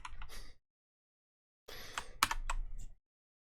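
Bursts of typing on a computer keyboard while coding in Java: a brief run of clicks, a pause of silence, then a longer cluster of close, crisp key presses.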